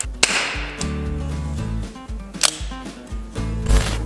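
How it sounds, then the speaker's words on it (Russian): A heavy toy officer's pistol fires percussion caps from a revolving drum, giving several sharp snapping cracks at irregular intervals with mechanical clicks between them. The shots are close and loud, and no one speaks. "курок ударит по патрону, и мы услышим выстрел"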